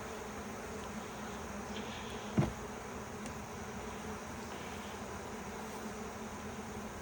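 Honeybees drone around an opened beehive during an August hive split in North Carolina, a continuous soft buzzing hum with one brief nearby thump, no talk.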